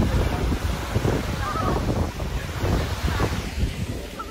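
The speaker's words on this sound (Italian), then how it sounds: "Faccio vedere solo il mare." Sea waves wash onto a beach on Formentera, a steady surf roar heavily mixed with gusting wind buffeting the microphone throughout, with no clear voices.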